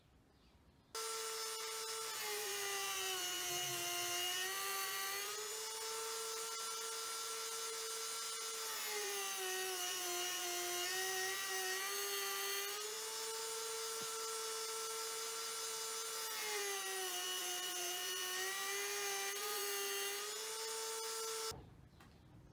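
Grinding the cutting edge of an end mill on a lathe, a steady high whining tone with strong overtones that holds for about twenty seconds and dips slightly in pitch several times, moderately faint, with no talk.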